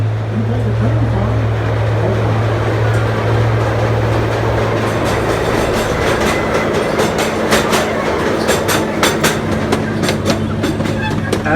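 The Tulsa Zoo train rumbles loudly along its rails with a steady low drone, rhythmic clicks and squeals building toward the end.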